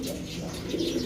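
Racing pigeon cooing softly in its loft, low murmuring coos repeating steadily at moderate distance with faint background noise, no talking.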